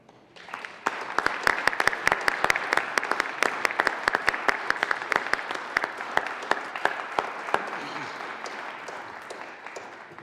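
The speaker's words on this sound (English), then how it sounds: "We should all give them a round of applause and thanks if you wouldn't mind welcoming them to the Senate." A state Senate chamber in Colorado fills with sustained applause welcoming a visiting group, a dense roomful of hands clapping steadily for about ten seconds after a brief quiet start.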